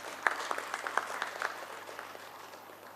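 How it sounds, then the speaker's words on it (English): Audience applause at a company listing ceremony at a stock exchange, a steady patter of many hands clapping in a hall, moderately loud and fading slightly toward the end. "Ladies and gentlemen, please give them a big round of applause"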